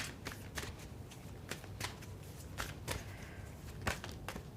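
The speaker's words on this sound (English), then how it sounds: "Too many cards, so I'll shuffle it again." Tarot cards being shuffled in crisp, repeated riffling bursts, close and steady, with no talking.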